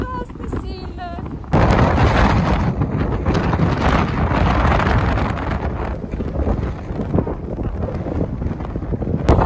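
Strong wind on a trip to Lake Baikal slams into the microphone in a loud, sustained roar that bursts in suddenly and keeps buffeting at close range, with a faint voice briefly heard before it hits.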